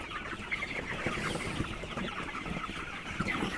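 Chickens on a small poultry farm cluck and murmur continuously at moderate volume, many birds overlapping into a steady barnyard chatter with no talk.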